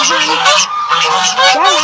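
Loud, close geese honking in rapid overlapping calls, nasal and harsh, filling the short stretch without pause.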